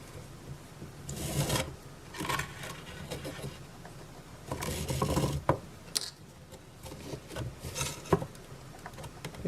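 Waxed thread drawn through leather during cross stitching, heard as a few separate raspy, rubbing pulls close by, each a second or so long, with quiet gaps between them and no talking.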